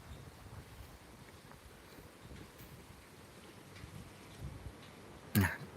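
A strong storm wind blows through an orchard in Chanthaburi, a low continuous rumble and buffeting against the microphone, with a sharp louder gust or knock near the end and no voices.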